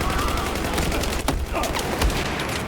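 Dense, noisy Battlefield 4 gunfire with sharp impact hits cutting through a constant roar of action.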